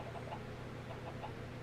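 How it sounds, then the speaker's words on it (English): Chickens in a game farm setting give a few soft, repeated clucks over a low background hum, faint and somewhat distant throughout the short moment. "have chickens going over here"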